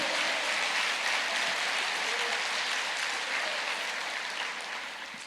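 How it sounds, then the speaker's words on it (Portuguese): Applause from a church congregation during a sermon, a steady wash of many hands clapping that holds strong and fades slightly toward the end, with no talk over it. "Aplauda mais."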